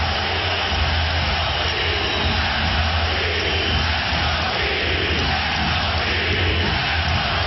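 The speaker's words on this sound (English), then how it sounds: "And this crowd on its feet." Roaring basketball arena crowd at an NBA playoff game between Detroit and Miami, a dense, steady wall of cheering that stays loud and unbroken throughout.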